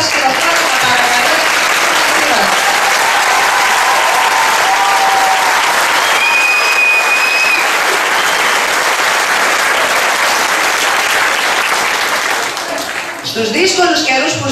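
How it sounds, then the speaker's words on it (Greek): Loud, dense audience applause after a first-night children's theatre performance of The Selfish Giant, continuous clapping that fills the hall, with a faint whistle partway through and voices emerging as it fades at the end. "Ένα μεγάλο μπράβο και το πιο δυνατό σας χειροκρότημα παρακαλώ"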